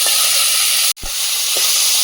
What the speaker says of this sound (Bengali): সাবধানে, এই মাছ কিন্তু ফোটে, কড়াইটা অনেক গরম হয়ে গেছে, খুব হিট